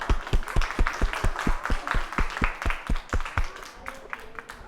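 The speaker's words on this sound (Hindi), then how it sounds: "आप सभी के लिए फिर से एक बार ताली।" Audience applause for players after a game at an institute event, a steady run of sharp close claps in a brisk rhythm that thins out near the end.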